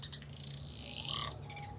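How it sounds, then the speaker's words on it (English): Birds squabble in a brief burst of high, scratchy chirps and squawks that swell for about a second, then drop away over steady low background noise. "Birds are fighting, I guess,"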